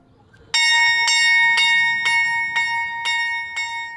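A convent bell of the Poor Clares rings in a steady, evenly spaced series of seven clear, loud strikes, each leaving a bright ringing tone that sustains under the next.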